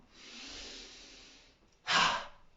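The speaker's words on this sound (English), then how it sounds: "Breathing out, fire breath." A single sharp, forceful breath expelled during a seated chair-fitness breathing exercise, loud and close, following a longer, softer airy inhale with no talking.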